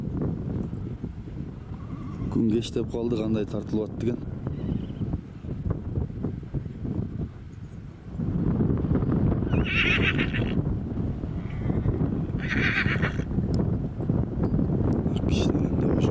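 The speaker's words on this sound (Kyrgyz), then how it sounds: "Желеге түшүп келатат жылкылар." A herd of horses in the Alay highlands neighs repeatedly, with several whinnies over steady hoof clip-clop and wind buffeting the microphone. Someone speaks briefly over the sounds.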